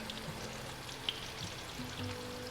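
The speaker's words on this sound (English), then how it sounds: "You want to hear it sizzling." Flounder fillets sizzle in butter in a pan, a quiet, continuous crackling hiss with a few small pops, close and steady with no talk.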